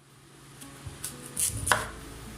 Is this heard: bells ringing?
no